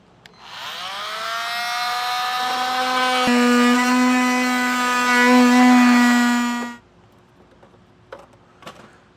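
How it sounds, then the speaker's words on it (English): An oscillating multi-tool cuts along the plastic ribs of a bumper fascia, giving one steady, loud, high-pitched whine that rises in pitch as it spins up, holds for several seconds, then stops, followed by faint handling clicks. "All I'm going to do is just take my multi-tool here and follow along this edge here"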